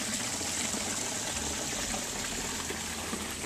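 A garden pond waterfall trickles and splashes steadily, a soft continuous wash of running water with no pauses and no voices.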